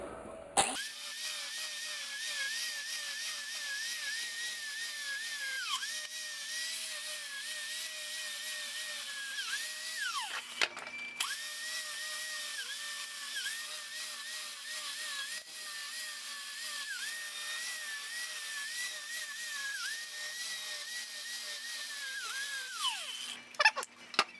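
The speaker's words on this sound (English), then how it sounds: "the angle grinder with a flap disc." An angle grinder fitted with a flap disc sands a wooden shield, a loud, sustained high whine that dips briefly near the middle and winds down at the end, alone and close.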